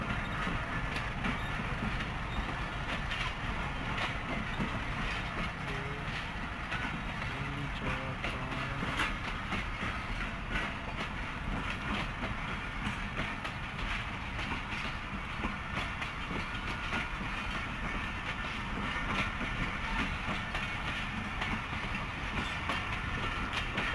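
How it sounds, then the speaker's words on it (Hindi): A CRRC Tangshan passenger train travels between Mandi Bahauddin and Malakwal with a continuous rumbling roar and rhythmic clickety-clack of wheels on the rails, steady and loud throughout. "ड्राइवर साहब एक्सीलेटर को प्रेस किए हुए लेके जा रहे हैं ट्रेन को।"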